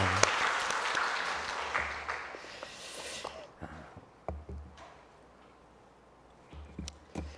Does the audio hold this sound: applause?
yes